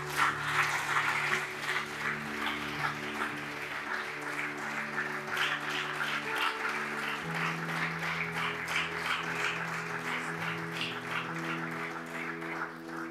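Congregation applauding during a Sunday church service at a temple in Godomey, a steady sustained wash of many hands clapping throughout, with music tones underneath.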